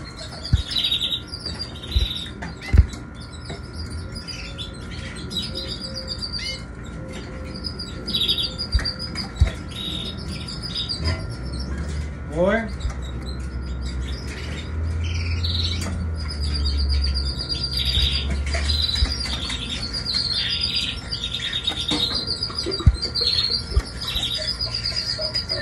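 Canaries in an aviary chirp and trill in repeated bright bursts, many birds close by, with occasional wing flutters and clicks over a low background hum.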